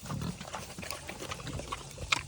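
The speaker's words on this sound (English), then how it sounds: "You crazy pig, Julie." A pig grunts and snuffles close by amid soft chewing and wet mouth noises, with a brief sharp sound near the end.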